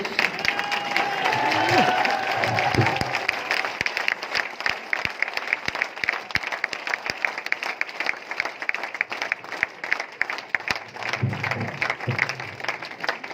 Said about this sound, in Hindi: एक बार हम चाहेंगे रूपराम भाई के लिए आप लोग खड़े होकर ताली बजा दिए सब लोग।